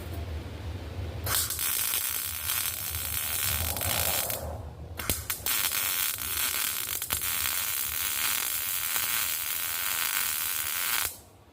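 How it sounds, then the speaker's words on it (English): Welding metal brackets on a travel van produces a loud, continuous crackling sizzle in long bursts, broken by a short pause and a few sharp clicks, before stopping abruptly near the end. "I'm going to get this finished welding so it can cool off."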